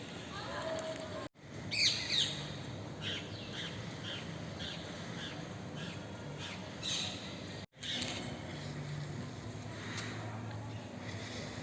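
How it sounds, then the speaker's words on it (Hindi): Birds chirp outdoors in a quiet town during a COVID-19 lockdown: scattered short tweets and a few squawks, faint to moderate, over steady background hiss with brief dropouts. "केवल पक्षियों की चहचहाहट दिखाई दे रही है।"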